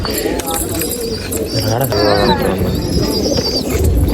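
Old racing pigeons in a loft coo in low, rolling throbs, close by, while someone talks over them and other birds chirp faintly in the background.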